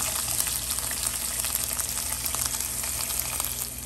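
Panch phoron spice mix frying in a little oil for a bitter gourd and egg dish, giving a steady, close sizzle with soft crackles that continue without pause and no talking.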